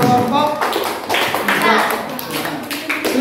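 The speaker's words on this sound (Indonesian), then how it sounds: "Kalau tepuk tangan buat kelompok" Children in a primary classroom clap together in a rhythmic group clap pattern, the claps close and mixed with young voices chattering over them.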